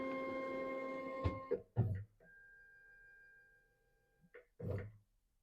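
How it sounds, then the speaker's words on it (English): A CNC router homes its axes, setting up to dock a dust boot: a steady motor whine holds for a couple of seconds between short clunks and knocks, close and moderately quiet, with no talk. "So basically what I'm going to do is I'm going to home the machine."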